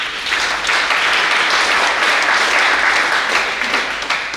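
A church congregation applauds the Lord in sustained, dense clapping that fills the room, loud and continuous from start to finish.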